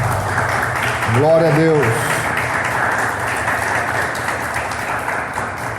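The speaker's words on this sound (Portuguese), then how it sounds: "Vamos aplaudir o Senhor Jesus." A church congregation applauds in a steady, even wash of clapping that fills the whole stretch, while a preacher's voice speaks over it.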